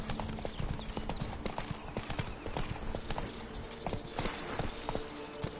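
Horse hooves clip-clop at a steady walking rhythm in The Witcher 3: Blood and Wine, close and distinct over ambient game music, with a faint neigh.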